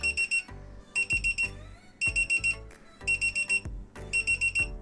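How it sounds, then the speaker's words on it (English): Alarm ringing on a Divoom Pixoo 64 pixel display, a loud electronic beeping in repeated bursts of quick tones, about one burst per second, with a bass-heavy musical backing. "There is even the option to set an alarm, and the display will ring at the right time"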